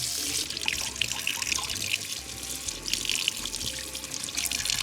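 Tap water runs steadily while small bait fish are washed by hand under the stream at a pier-side cleaning, a continuous splashing rush with no talk.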